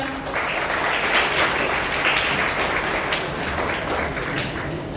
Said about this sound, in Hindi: एक बार जोरदार उनके लिए तालियां